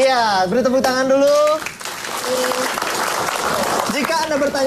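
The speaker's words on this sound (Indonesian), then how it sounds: "beri tepuk tangan dulu." A television studio audience applauds on an Indonesian talk show, with a burst of clapping through the middle of the clip set between stretches of sung or drawn-out voices.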